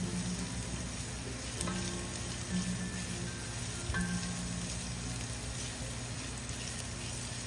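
Tomatoes frying in a pan for pork picadillo, a steady continuous sizzle with occasional stirring clinks, close and even throughout.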